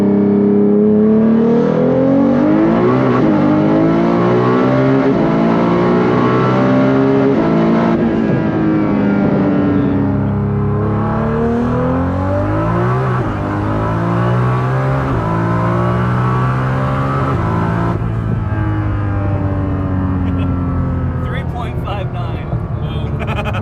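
A 1500 HP GTR accelerates hard on a drag run on street tires with 20-inch wheels, its engine note climbing in loud sustained sweeps through the gears, close and continuous with no talk over it.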